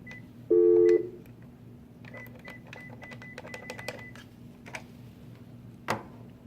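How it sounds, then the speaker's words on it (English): A classroom telephone keypad dials an extension on a new phone system, a loud tone at first, then a quick run of faint, short beeping key tones spaced unevenly, over a quiet steady hum. "you're going to dial the extension"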